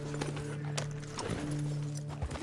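Horse hooves clop steadily in Red Dead Redemption 2, a quick rhythmic clip-clop under a low hum of game sound, with no speech.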